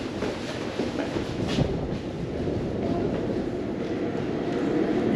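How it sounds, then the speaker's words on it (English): A train rumbles into London Marylebone Station, steady low mechanical roar with rail noise building gradually, no talking. "And just so you know it, a train is coming."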